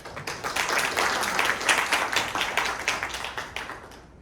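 An audience at a construction policy forum welcomes a professor to the podium with steady, dense clapping that stays fairly loud throughout and tapers slightly toward the end.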